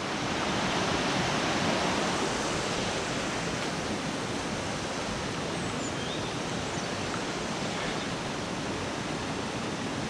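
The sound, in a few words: river flowing in Roslin Glen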